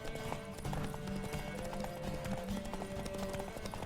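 Galloping horse hooves in The Witcher 3 video game make a steady, fast clip-clop over a constant backdrop of ambient game sound.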